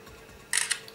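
An LG Optimus G smartphone camera fires its shutter after a voice command, giving a short crisp double click, two quick bright snaps close to the microphone against quiet room tone.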